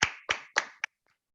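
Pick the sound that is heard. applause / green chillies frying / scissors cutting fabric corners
applause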